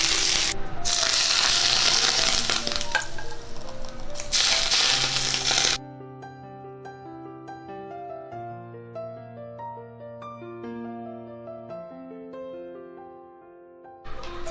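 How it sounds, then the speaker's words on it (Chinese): Hot oil poured over a steamed fish head topped with chopped chili and scallions sizzles loudly and continuously for about six seconds, then stops abruptly as light music takes over. "淋上热油，"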